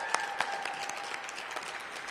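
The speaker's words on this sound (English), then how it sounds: "Can we give her another round of applause?" An audience at a Black History Month celebration breaks into a brief burst of applause, scattered claps over a soft crowd wash, fairly quiet and distant.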